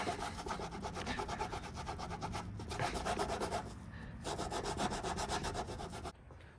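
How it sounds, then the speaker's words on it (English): Steady, rapid back-and-forth scrubbing as WD-40-soaked adhesive is rubbed off the emblem area of a 2017 Maxima Platinum, close and loud, with a brief lull midway before the strokes resume and then stop abruptly; no talking. "I've been scrubbing for a while now"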